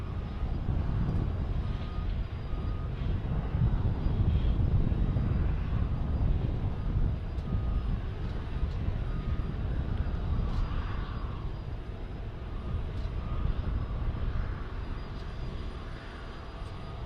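Steady low-pitched engine drone from a King Air 90 twin-turboprop aircraft at an airport, rumbling continuously and fairly close with a faint whine above, running without pause throughout.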